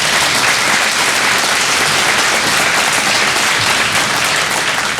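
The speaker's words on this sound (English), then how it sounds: "Let's do one more round of applause for these great educators." An audience at a 2025 Chamber of Commerce awards gala honoring educators bursts into dense, loud, continuous applause that stays steady for about five seconds.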